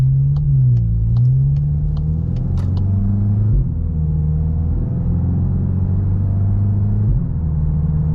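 A Volkswagen MK8 GTI with an ECS catback exhaust gives off a loud, droning engine rumble that holds steady with slight pitch shifts as the car cruises, plus a few faint clicks early on.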